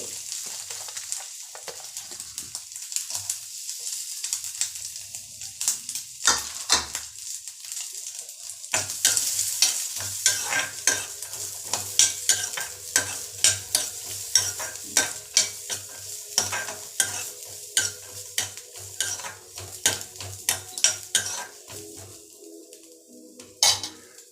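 Raw coconut pieces stirred and roasted in a metal pan on the stove, with a low sizzle under repeated scraping clinks of a spoon against the pan, fairly close and steady throughout.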